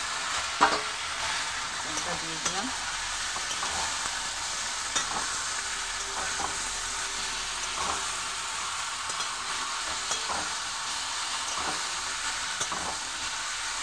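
Chicken pieces stir-fried with browned onions in a pan, a steady close sizzle running throughout with scraping spatula stirs every couple of seconds, no talking.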